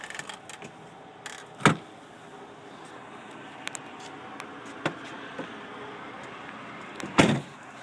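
Rear seats of a 2010 Toyota RAV4 Sport fold forward by control, giving two sharp thumps several seconds apart with faint clicks and rustles in a quiet cabin.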